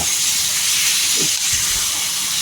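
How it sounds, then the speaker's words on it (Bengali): Masala sizzles loudly while being fried for prawn soup, a steady close hiss throughout with a couple of faint low knocks. "এবার একটুখানি কষার পালা ভালো করে একটুখানি কষিয়ে নেবেন"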